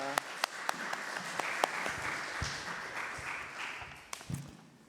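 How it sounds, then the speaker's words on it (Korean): A church congregation applauding, with a few sharp early claps swelling into a moderate, even round of clapping from a small crowd that fades near the end. "우리 하나님께 영광의 박수 올려드리겠습니다."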